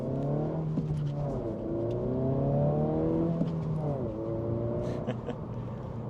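A 2025 Honda Civic Si with turbo boost accelerates through the gears, its engine note rising in pitch, dropping at each shift and climbing again, heard steadily from inside the car.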